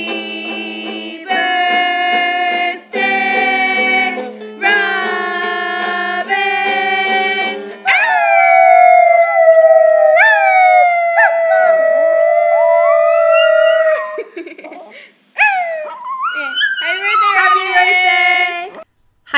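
Several people howl in imitation of coyotes, long sliding wails rising and falling one after another, loud and close, with short pauses between bursts and overlapping voices toward the end.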